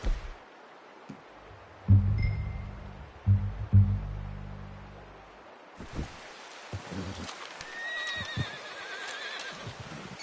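A horse in a video game neighs and whinnies in several loud bursts and snorts, with soft rustling between them, followed by higher, fainter calls near the end.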